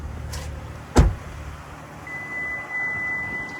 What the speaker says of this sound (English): that's just the car telling me that it's still on, keys are in my pocket still